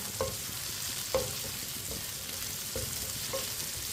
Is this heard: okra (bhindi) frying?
yes